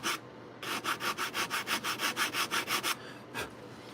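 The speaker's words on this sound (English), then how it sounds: "I have these little sand blocks here. And these work really well for getting in where the Dremel will not go." Small hand-held sanding blocks rubbing over a paper-engineered Hammerhead Corvette model, about fifteen quick, even back-and-forth strokes close up, then a pause and one last stroke.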